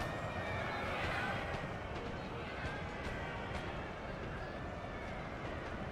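Cavalry horses charging in a Napoleonic battle game, with cuirassiers counter-charging: whinnies and drumming hooves blend into a steady battle din, while a voice talks over the action throughout.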